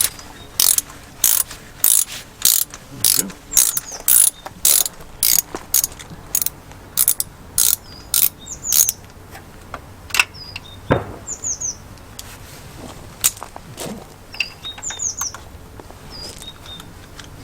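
A ratchet wrench clicks in rapid bursts while loosening spark plugs in an aluminium head on a VW Fox, a dozen close sharp ratcheting runs with pauses and a brief spoken remark.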